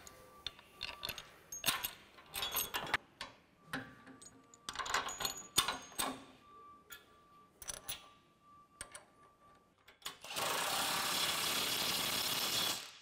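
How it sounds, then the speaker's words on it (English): A 15/16 wrench and socket ratchet while loosening bolts on a tank installation, giving bursts of quick close clicking with pauses between, then a steady louder noise near the end. "It is a 15/16 wrench and socket to loosen those up."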